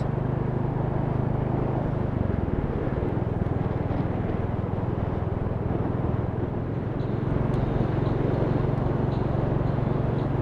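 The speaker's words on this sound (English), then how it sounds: "I really love the way this bike is riding." A Honda Cub motorcycle riding along, its steady engine drone and road noise continuous and fairly loud throughout, with no voices.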